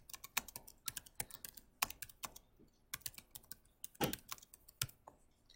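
Rapid typing on a computer keyboard, a quick irregular run of close, crisp key clicks with short pauses between bursts, heard alone with no talking.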